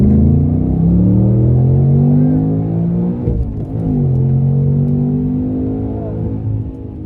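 An 800-horsepower Ford Mustang FP800S engine pulls hard in second gear, a loud, close, steady drone whose pitch climbs, dips briefly midway, then rises again.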